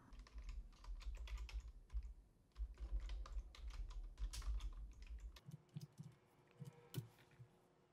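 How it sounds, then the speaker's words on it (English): Typing on a computer keyboard in a Windows setting, with dense, quick key clicks running throughout, near and fairly quiet, and heavier thumps of the keys in the first part before lighter tapping continues. "if you press the Tab key on your keyboard, you can rename the next file right away"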